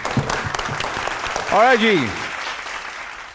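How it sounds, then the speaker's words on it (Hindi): An audience at a game show applauds for a contestant, clapping running under a voice that speaks briefly over it. "जरगून के लिए तालियां।"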